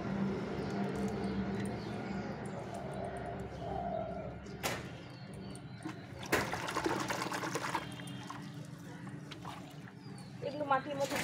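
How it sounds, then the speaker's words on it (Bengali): Potted plants freshly pulled from soil are swished and rinsed in a container of water, giving intermittent splashes and sloshing bursts under a steady indoor background, with a voice talking quietly. "এই জলের মধ্যে ধুয়ে নেব।"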